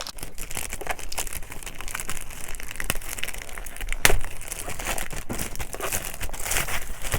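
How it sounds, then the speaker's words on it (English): Festive gift packaging around a mini handbag crinkles and crumples steadily for several seconds, dense close-up paper rustling with a few sharper tearing and crushing bursts and no talking. "So I'm about to unbox this bag"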